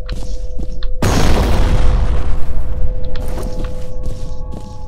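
A grenade goes off in F.E.A.R. with a loud, sudden boom followed by a long rumbling decay and scattered debris and footstep sounds.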